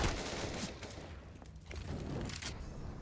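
AK rifle fire in a competitive video game match, heard as a quiet, distant burst of shots with a muffled boom over a steady game background.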